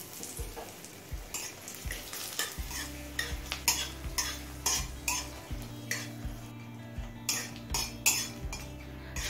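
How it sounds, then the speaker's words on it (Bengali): Broken dried red chillies fry in hot mustard oil over a high flame, a soft sizzle under repeated metal clinks and scrapes of a spoon stirring the pan, the clinks regular and close. "শুকনো লঙ্কাটা হালকা লাল করে ভেজে নিয়েছি"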